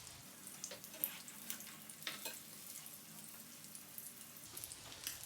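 Crab cakes coated in golden breadcrumbs fry in a pan with a soft, steady sizzle, scattered crackles and pops rising quietly above the low hiss.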